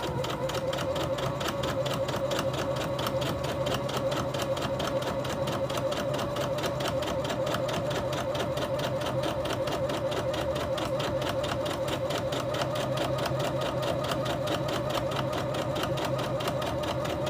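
A sewing machine runs steadily, stitching a quarter-inch seam in a craft project, with a continuous, close, even motor whir and needle rattle throughout and no talk.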